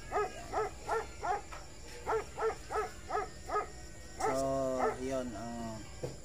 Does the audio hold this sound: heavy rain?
no